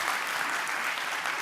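A conference audience at a youth forum claps steadily, a dense wash of applause that stays even in loudness throughout and has no voices over it.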